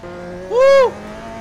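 A Mitsubishi Evo 9 rally car in a Roblox racing game runs on dirt, its engine giving one short, loud rev that swells and falls away against a steady hum.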